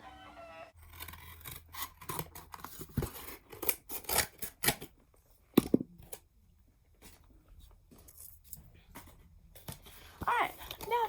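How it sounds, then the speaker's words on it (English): Scissors cut through cardboard for a bunny mask, with a series of irregular crisp snips and crunches at close range, pausing briefly in the middle. A chicken clucks faintly in the background near the end. "When we do cut our cardboard, make sure to cut from the top all the way down"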